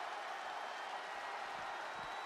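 Steady broadband crowd roar and cheering from a WWE 2K20 wrestling match arena, continuous and fairly loud with no break across the clip.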